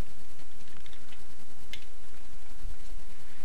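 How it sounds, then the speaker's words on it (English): Keys on a computer keyboard click in a quick, steady run of taps, close and fairly loud over a constant background hum, with no voices. "I'm just going to type this in."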